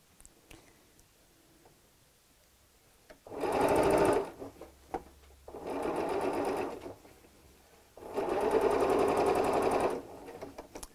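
A home sewing machine stitches a fabric seam on a storage cube in three loud, steady bursts of motor whir, separated by short quiet pauses with faint handling noises.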